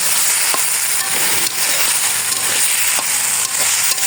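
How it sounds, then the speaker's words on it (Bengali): Marinated ingredients sauté hard in a hot pan, a continuous loud sizzle broken by several sharp scrapes and stirs of a spatula, with no voices. "এখন কষিয়ে নেব,"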